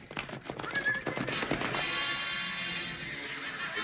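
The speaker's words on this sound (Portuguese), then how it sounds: "Ele trouxe uma grande manada de cavalos lindos." A large herd of horses neighs and whinnies amid clattering hooves, a busy, fairly close jumble of calls and clip-clop with no talking.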